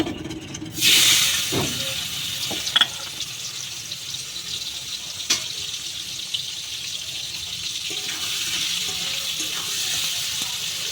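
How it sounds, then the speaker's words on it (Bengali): Fish frying in oil in a wok, a loud sizzle bursting up as pieces go in, then settling into a steady hiss with a few brief clinks and pops. "দিয়ে আবার মাছগুলো ভেজে নেব।"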